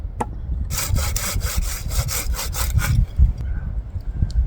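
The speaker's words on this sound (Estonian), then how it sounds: "Ja saeme parajaks." Quick back-and-forth strokes of a handsaw cutting a wooden stick, about a dozen rhythmic rasps, close by, then stopping, followed by quiet handling noises.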